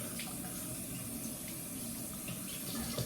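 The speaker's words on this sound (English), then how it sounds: "Let's run some water through it." Tap water runs steadily through a synthetic buffalo-shaped shaving brush with a 25mm knot, a soft continuous splashing close by with no talk.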